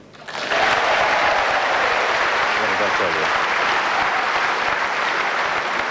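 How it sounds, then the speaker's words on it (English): A snooker audience bursts into loud applause and cheering after a pot in a doubles match, the clapping surging in abruptly and holding steady while a commentator speaks briefly. "If this red goes in, there'll be a tremendous cheer."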